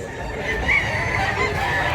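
A rooster crows close by, a single drawn-out call rising and then holding over a noisy outdoor background.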